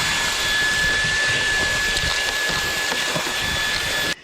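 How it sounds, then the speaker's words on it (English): A vacuum cleaner runs continuously while cleaning around the blower motor area of a Case 1070 tractor, a loud steady broadband whoosh with a thin high whine that cuts off abruptly at the end. "Let's start vacuuming."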